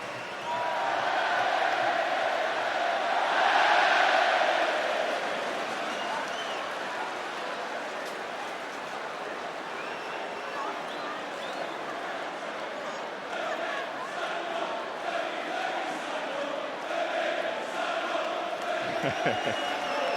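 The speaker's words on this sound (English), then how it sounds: "And the Scunthorpe fans applauding that as well." Football crowd at Scunthorpe United's stadium during a Carling Cup match against Manchester United, with a broad sustained wash of applause and crowd noise that swells early then settles to a steady distant roar, with commentary voices over it.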